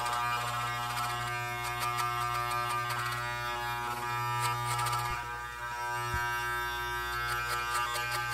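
Electric hair clippers fitted with a number two guard buzz steadily and loudly up close while cutting through hair, the drone continuous for the whole stretch with slight shifts in pitch.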